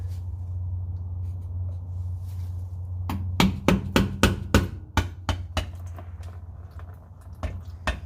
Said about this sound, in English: It's got a little scraper with a mallet.